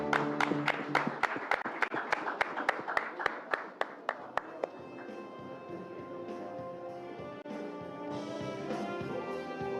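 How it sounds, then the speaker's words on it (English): Audience applause for the winners of a healthcare leadership award at the NDTV Indian of the Year 2025 ceremony, starting with loud, sharp, evenly spaced claps that give way to a denser wash of sound with music-like tones. "A round of applause, please,"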